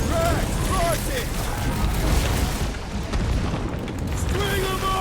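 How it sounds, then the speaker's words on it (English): Heavy gunfire and booming explosions in a Guardians of the Galaxy video game battle, a loud continuous barrage with sharp electronic whines and tones layered over the rumble. "Sounds like a lot of Flark and gunfire."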